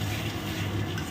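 Spice paste frying in a pan with whole garlic cloves, a steady close sizzle with soft stirring scrapes throughout.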